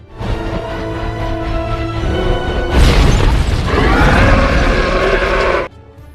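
A helicopter crashes into a dinosaur park in a Jurassic film. Mechanical rumbling and grinding build up to a heavy boom and sustained roaring blast, with debris noise that cuts off abruptly.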